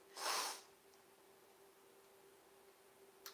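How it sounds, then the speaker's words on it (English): A single sharp, breathy sneeze bursts out up close at the start, followed by faint room quiet. "I'm just sneezing."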